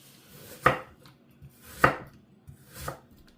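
A knife chops through onion on a board in three distinct sharp thuds about a second apart, close and clear with no talking.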